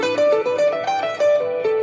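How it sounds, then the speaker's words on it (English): A guitar runs quickly through a minor pentatonic scale pattern, single notes picked in a steady, bright sequence. "minor pentatonic would sound like this"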